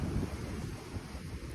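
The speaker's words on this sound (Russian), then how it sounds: "слышишь шум волн, прекрасный, приятный, ветер дует" Sea waves and wind at sunset beside the sea in Turkey, heard as a steady, soft rush of surf mixed with wind buffeting the microphone. The sound is fairly faint and continuous, with no voices.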